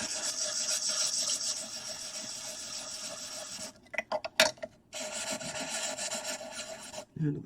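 A file rasps across plastic parts for a model pod build, flattening their surfaces: long, continuous scraping strokes, then a pause with a few short scrapes and knocks before another sustained stretch of filing.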